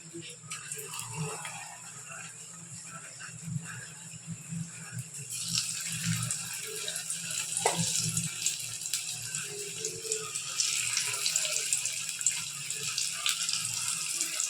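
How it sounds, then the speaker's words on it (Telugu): Egg puffs frying one by one in hot oil give a steady, fairly close sizzling hiss that grows louder and busier about halfway through, with a faint low hum beneath. "కొంచెం ఆయిల్ హీట్ ఉండగా ఇవి ఒక్కొక్కటి మెల్లిగా వేసుకుందాం"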